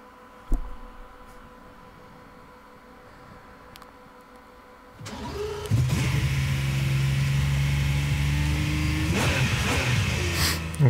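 An Aston Martin Group 3 race car in Gran Turismo Sport on PS4 idles quietly at first, then its engine swells into a loud, steady roar as the car pulls away and keeps accelerating.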